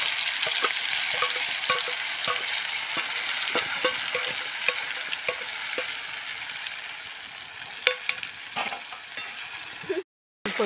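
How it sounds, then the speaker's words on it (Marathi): Homemade masala fries in a pan over a wood-fired stove, a continuous crackling sizzle punctuated by clicking, scraping stirs, close by and uninterrupted until a brief cut near the end. "परतून घेऊया।"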